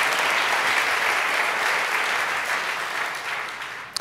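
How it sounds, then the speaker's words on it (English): An audience bursts into dense, steady clapping that slowly thins toward the end, with one sharp clap just before it finishes. "It's worth clapping on that"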